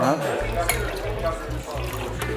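A Bloody Mary cocktail is rolled by pouring it back and forth between vessels, a soft, continuous liquid pour under a steady, low rhythmic thumping beat, with a faint clink near the start.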